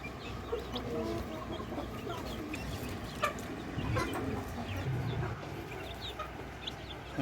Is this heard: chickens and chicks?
yes